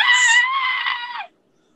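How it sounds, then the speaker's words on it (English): A woman's scream rings out as a horror podcast sound effect: a single loud, high, shrill cry lasting just over a second, then it cuts off abruptly into silence. "Randall, Russell, you hear the screams."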